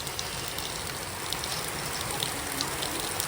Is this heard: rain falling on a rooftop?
yes